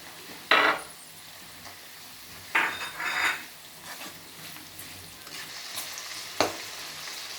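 Kanthari chillies frying in hot oil with curry leaves for a raw dates pickle, a steady sizzle with a few sharp crackles and spoon scrapes against the pan.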